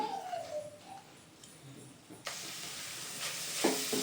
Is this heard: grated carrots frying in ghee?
yes